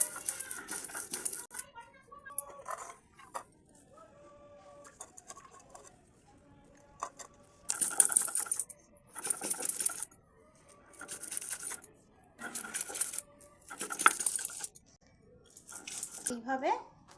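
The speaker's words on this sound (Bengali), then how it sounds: "ডালটা বেশি মিহি করে বাটবো না, সেই জন্য শিলের মধ্যে বেটে নিয়েছি।" Soaked lentils are ground coarsely by hand on a flat stone grinding slab (shil) for a spicy lentil-cake dish. About seven rhythmic rasping, scraping strokes come in bursts, with a faint voice in the quieter gaps.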